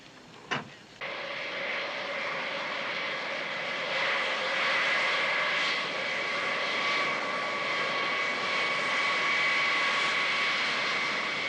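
A jet airliner spools up and roars down the runway on its takeoff roll. A brief thump comes first, then a loud, sustained engine whine and rumble holds steady to the end.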